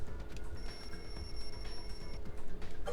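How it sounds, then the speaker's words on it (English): Wall clock alarm in the lounge of the video game Danganronpa 2 rings steadily for about three seconds as a sustained high electronic tone over a busy game background, with no speech. "The lounge's wall clock alarm started ringing at 5:30."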